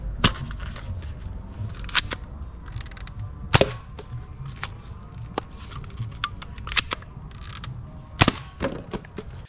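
A Nerf Freestorm toy blaster fires in sharp, close clicking snaps, several spaced shots across the stretch over a low background rumble.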